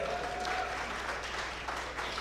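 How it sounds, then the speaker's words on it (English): An audience at a National Diaspora Day celebration claps for the women in the room, a soft, continuous wash of applause heard at a distance over steady background hum. "let's give an applause to all the women in the room"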